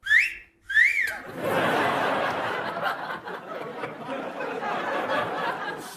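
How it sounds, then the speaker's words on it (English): A referee whistle gives two short rising-falling tweets that ring out clearly, followed by a sustained burst of noisy crowd chatter and laughter. "they're still insisting that refs use this whistle"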